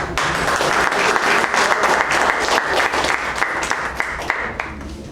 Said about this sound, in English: A big round of applause for the entire tag team